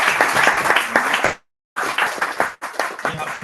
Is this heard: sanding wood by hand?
no